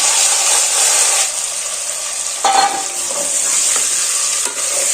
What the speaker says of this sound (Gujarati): હવે આપણે સમારેલી પાંદડી ટમેટા અને રીંગણા બધા એડ કરી દઈશું